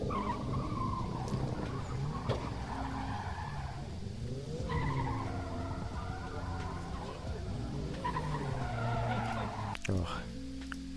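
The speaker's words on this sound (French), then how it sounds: "t'es censé voir 10 minutes de drift et déjà, premier truc, tu vois déjà un drift" A car drifting with tires squealing and skidding under a revving engine, sustained and fairly loud with shifting pitch across repeated slides.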